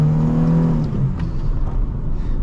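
S10 pickup truck with 48,000 miles accelerating on a road, close engine rising in pitch under throttle, then settling into a steady rumbling drone.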